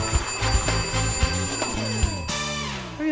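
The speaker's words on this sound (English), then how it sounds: "You notice that alarms always come off at exactly the wrong time." An alarm clock rings with a rapid, repeating metallic bell clatter that cuts off sharply near the end, loud and alone with no talking.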